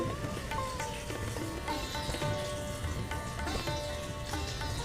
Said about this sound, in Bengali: মশলাটা কষানো হয়ে গেছে, দিয়ে দিচ্ছি গরম জল।